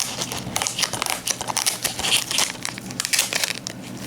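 Plastic wrap on an anime DVD case is torn and crumpled open, giving a continuous close crinkling and crackling that runs through the whole stretch with no talk.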